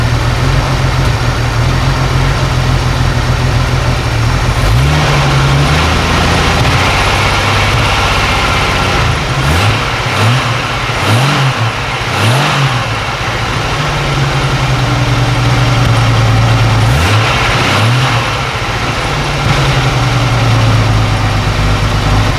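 A Jeep YJ engine idles roughly on gasoline about a year and a half old, a steady low rumble with uneven, loping pulses, close and continuous with no talk.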